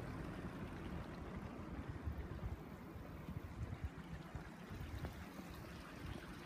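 A small river trickles through an old abandoned ford, a steady low wash of water with a soft broadband hiss, fairly quiet and continuous with no voices.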